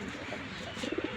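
Pigeons in a seller's loft, including grizzle, tiger and white fancy breeds, give low, soft cooing under a steady background hum, a few rounded coos rising near the end of the brief stretch.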